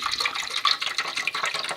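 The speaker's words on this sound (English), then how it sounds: "So what I do is pour it straight in the water container." Descaling solution poured into the water container of a Nescafe Dolce Gusto Oblo coffee machine, a steady close trickling and splashing of liquid running throughout with no speech.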